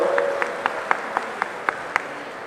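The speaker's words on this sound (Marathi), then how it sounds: "आपण सर्वांनी टाळ्या वाजून मनपूर्वक या ठिकाणी स्वागत करावं" A crowd at a public gathering claps in welcome of a respected guest, crisp, evenly spaced claps about four per second standing out over a low, steady room murmur.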